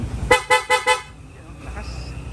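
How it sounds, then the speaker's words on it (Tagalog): A loud horn fitted to a Suzuki Sniper 150 motorcycle sounds four short, punchy blasts in quick even succession, close and dominant, followed by quieter workshop ambience. "Tapos loud horn, doon na po magkakaroon ng horn passing."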